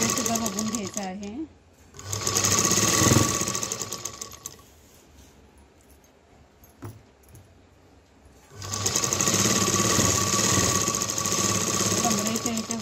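A sewing machine stitches a gown, running in two long loud bursts with a quieter gap between them, while a person talks nearby.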